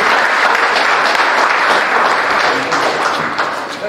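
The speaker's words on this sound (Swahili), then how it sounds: "Sasa pigeni makofi." Loud, dense audience applause rolls through a vicarage opening ceremony, many hands clapping close by in a sustained burst that thins slightly toward the end.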